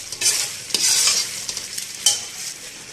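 Lentils roasting in ghee in a pan, a continuous crackling sizzle broken by a few sharp scrapes as a spoon stirs them, heard close with no voices.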